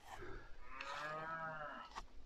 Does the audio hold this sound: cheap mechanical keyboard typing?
no